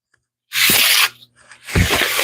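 Sawdust being brushed off a wooden workpiece with a small brush: two bursts of dry, scratchy sweeping, close and fairly loud, separated by a short pause.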